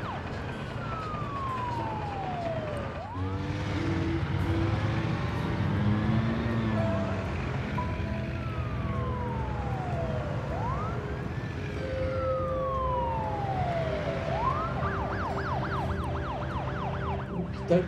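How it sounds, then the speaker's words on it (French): Ambulance siren in the city-building game SimCity, a loud repeated wailing sweep rising and falling, later switching to a fast yelp, over steady game background sound. "l'ambulance repart pour aller à l'hôpital."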